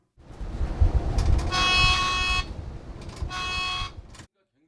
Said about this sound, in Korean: 버스가 우회전할 때 보행자를 인식한 AI 감지 카메라가 즉시 경보음을 내고